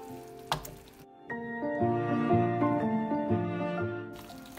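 Rice fries with curry powder and turmeric for cilantro yellow rice, giving a quiet, steady sizzle with stirring that begins after a short pause and carries on evenly to near the end.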